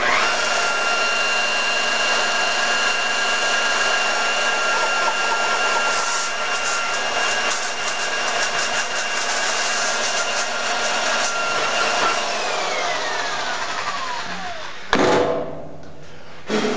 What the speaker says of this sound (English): just going to run the buffer over top of my blend and see what I got to work with